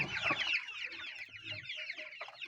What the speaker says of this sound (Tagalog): Itong batch na to ng sisiw.